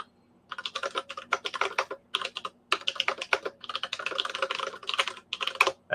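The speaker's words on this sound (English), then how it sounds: "I'm typing on the wrong thing. So I've been doing 2 keyboards next to each other" Rapid clicking of a computer keyboard during typing at a two-keyboard setup, with bursts of keystrokes separated by short pauses, close and alone.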